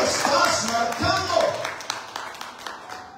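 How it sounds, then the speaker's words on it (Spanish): A church congregation claps for God during a New Year sermon, scattered sharp claps and taps rising from a voice that fades out as the applause continues. "alguien tiene que aplaudir a Dios"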